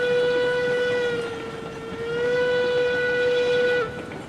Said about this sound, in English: definitely a different sound to this locomotive